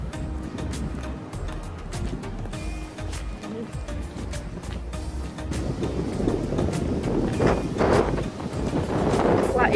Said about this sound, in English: Well, it is very windy today